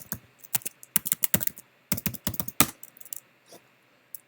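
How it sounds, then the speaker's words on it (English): Close, crisp keystrokes on a computer keyboard typing a short name into a login field, quick irregular bursts of clicks separated by brief pauses, no voices. "type Peter Flynn"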